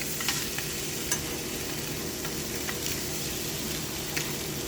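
Salmon fillet frying in a pan, a continuous close sizzle with faint scattered ticks and scrapes as the fish is turned over, no voices over it.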